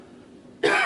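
A single sharp cough bursts out near the end after a brief quiet moment.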